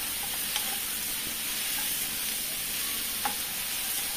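Shrimp and vegetables stirred in a hot frying pan, giving a steady close sizzle with a few faint utensil scrapes, no talking.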